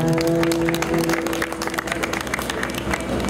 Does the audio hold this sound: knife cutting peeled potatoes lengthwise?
no